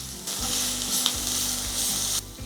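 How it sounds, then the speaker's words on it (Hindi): Chopped garlic and ginger sautéing in hot oil, a loud steady sizzle with stirring scrapes at intervals, no voices. "2 टीस्पून चॉप किया जिंजर है वो डाल देंगे और उसको थोड़ा सा सौते कर लेते हैं।"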